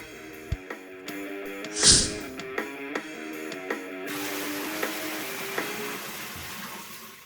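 Water drains from a water heater, gurgling and splashing steadily with intermittent clanks and a brief louder gush, becoming a denser, continuous rush toward the end.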